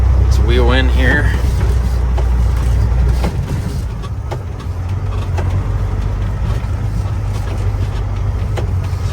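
A Freightliner truck with a Cat engine rolls in, its deep diesel rumble loud and close and shifting in pitch partway through, while someone speaks briefly near the start.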